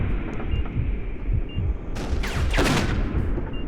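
Gunfire in the video game Exmortis 3: a steady low rumble of distant shots is broken by a loud, close burst of several rapid cracks near the end.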